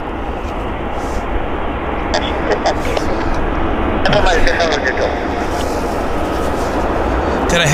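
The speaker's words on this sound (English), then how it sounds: "Got a heavy on approach" A heavy airliner on approach to Vancouver YVR airport, Air Canada Flight 38 in from Sydney, gives a steady broadband engine roar that swells slightly midway, with voices talking over it.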